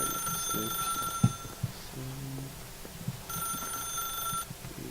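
A telephone rings in the video game The Stanley Parable, giving two bursts of bright electronic ringing separated by a pause, with some faint clicks and low tones between them.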